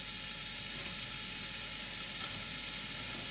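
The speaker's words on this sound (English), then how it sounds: "Now the oil's starting to come out of my spices that I've already fried off, so what I'm going to do, add in my chilies" Chilies and green peppers hit hot oil already carrying fried spices, for pork vindaloo, giving a dense, even sizzle that holds steady and close throughout, with no voices.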